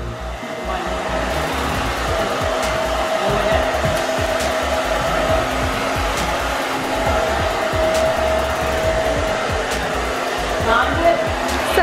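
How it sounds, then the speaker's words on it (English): A hair dryer runs continuously at close range while hair is blown out in a luxury Dallas home, with a loud steady whirring roar and faint clicks layered over it. "Mom's blowing out some hair here."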